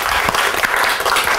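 Loud, close applause fills the room at a training session, a dense continuous burst of clapping from the participants with no voices over it.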